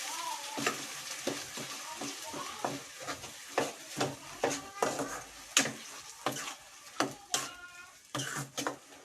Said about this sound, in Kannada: ಎಣ್ಣೆಯಲ್ಲಿ ಒಗ್ಗರಣೆ ಹಾಕಿದ್ದೀನಿ